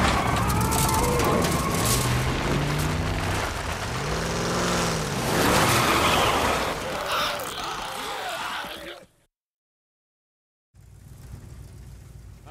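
A truck engine in a video game drones loudly under shouting voices, then cuts to brief silence before a quieter rumble returns.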